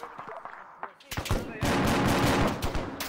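Machine guns lay down suppressing fire during a military operation, a loud, sustained roar of automatic bursts that builds after a short lead-in, with voices faintly under the gunfire.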